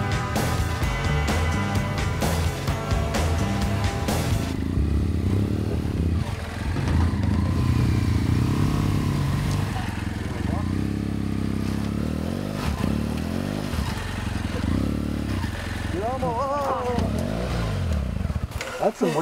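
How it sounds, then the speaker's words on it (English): Small dual-sport motorcycles ride through rough New Mexico backcountry terrain, their engines droning steadily throughout with some clatter and scraping, while people talk over the riding. "Small bikes make it a little easier to paddle through that stuff."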